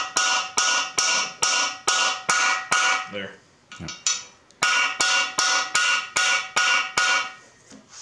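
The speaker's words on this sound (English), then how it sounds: "I use a hammer to get it flush, and then a socket to drive it all the way in." Sharp, evenly spaced hammer taps ring out in a steady rhythm, tapping a part flush during a Miata 1.8L engine build, pausing briefly while a voice speaks a couple of words, then resuming with more taps.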